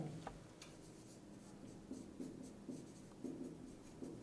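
Pen or chalk writing out a matrix equation, a faint steady scratching with small repeated strokes, quiet and close, heard alone without talk.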